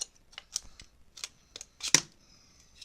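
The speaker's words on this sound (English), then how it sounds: "So we're gonna use regular scissors." Regular household scissors snipping through parts while an iPod 5 is taken apart, a string of sharp, close clicks and snips with one louder crunching cut near the end, no talking.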